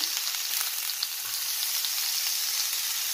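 Boiled green banana pieces are stirred in a hot pan, a steady close sizzle with faint scraping of the spatula underneath and no voices.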